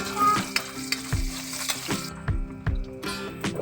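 Pork for adobo frying in a pan in a rural home kitchen, a loud steady sizzle close up with rhythmic stirring scrapes and knocks, and no talking.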